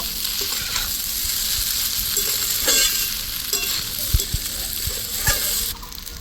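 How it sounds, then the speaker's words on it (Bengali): Chowmein with chaat masala is stirred and tossed in a hot pan, giving a continuous sizzle with repeated utensil scrapes and soft knocks against the pan, close up. "দিয়ে দিব চাট মশলা আবারও খুব ভালো করে মিশিয়ে নেব"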